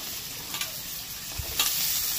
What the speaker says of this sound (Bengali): তো আলুটাকেও ভালো করে ভেজে